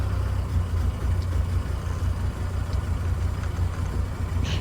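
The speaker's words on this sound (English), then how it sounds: "So you just get an idea at idle how much noise you can expect to hear in the car" A 2020 Mahindra Roxor engine at idle gives a steady, low, even rumble that holds without change throughout, heard from inside the vehicle.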